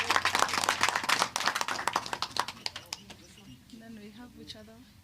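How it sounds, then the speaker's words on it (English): Conference audience applause for a community group, a burst of clapping for about three seconds that thins into scattered claps, then a voice speaks at the end. "a round of applause for all of them."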